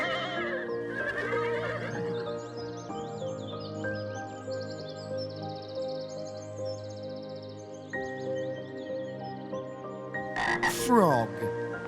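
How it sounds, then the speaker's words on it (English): Frog croaking repeatedly in a steady, rhythmic chorus of throaty calls, close and fairly loud over a continuous musical background, with a brief sharper burst near the end. "It's a frog."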